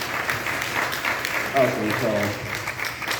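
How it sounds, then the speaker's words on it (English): Applause from a church congregation runs under a voice as he speaks a few words, a moderate, steady patter of many hands that stays in the background. "a little longer applause than usual"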